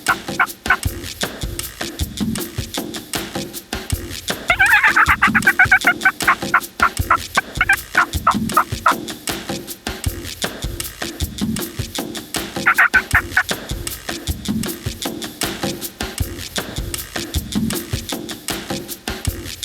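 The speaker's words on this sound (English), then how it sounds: "Dirt and his guide Adrian have spotted a gobbler and are attempting to set up just off the edge of a clear cut with hopes of calling him in." A wild turkey gobbler gobbles loudly several times beside a clear-cut, each burst a rapid rattling call, with steady rhythmic clucking or footsteps and rustle heard throughout.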